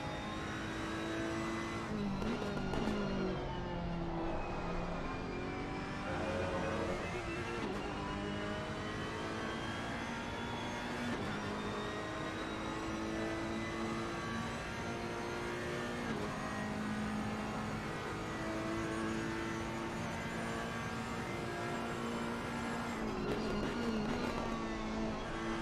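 Ferrari GT3 race car engine roaring steadily through a lap at Mount Panorama in a racing video game, with rising and falling revs and gear changes over a continuous loud drone.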